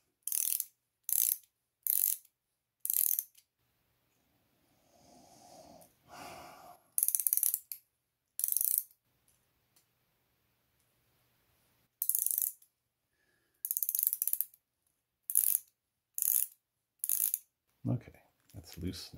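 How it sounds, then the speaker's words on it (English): An alarm clock mainspring is wound by hand, producing sharp ratchet clicks in short separate bursts with quiet gaps, plus a softer mechanical rustle midway, close and clear with no talking. "I can wind the mainspring."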